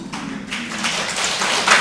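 Congregation applause rings through a large church during a priest's retreat lecture in Seoul, a diffuse, reverberant patter of many hands that swells slightly toward the end, heard from a distance without speech.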